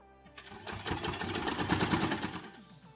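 Sewing machine stitching cotton fabric for a baby headband, with a brief fast, rhythmic mechanical chatter that starts up, runs steadily and slows to a stop, close and fairly quiet.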